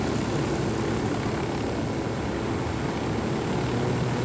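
Helicopter in the Ghost Recon Wildlands video game, a steady, loud rotor and engine drone that holds evenly throughout with no talk.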